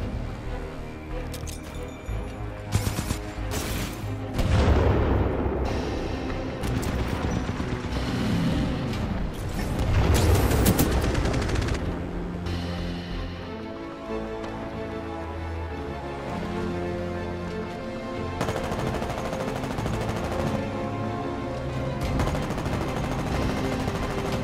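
Automated turret fire in Titanfall 2, a dense, sustained barrage of rapid gunshots and mechanical clatter running loud throughout, with heavier bursts and booms swelling at a few points.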